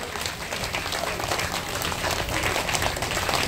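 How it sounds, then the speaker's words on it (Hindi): Audience clapping along to a devotional bhajan at a Brahmin farewell gathering in Chhapra, Bihar, a dense, steady wash of many hands under crowd noise and music. "दोनों हाथों को ऊपर करिए और ताली बजा करके इस भजन का आनंद लीजिए।"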